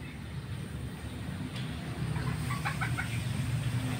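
Ornamental Chochin and Serama chickens in a holding coop give soft clucks and short calls over steady background noise, growing slightly busier toward the end.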